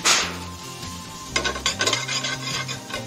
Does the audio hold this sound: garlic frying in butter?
yes